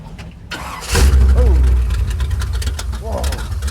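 A 1968 Chevy Nova SS stock drag car's engine cranks and fires up with a loud roar, then settles into a rough, beefy idle; people talk over it.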